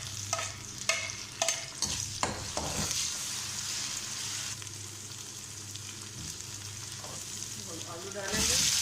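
Onions sizzle in hot oil as ginger garlic paste is added for a Multani potato chickpea curry, with a spoon scraping and stirring the pan in irregular strokes and a louder hiss toward the end.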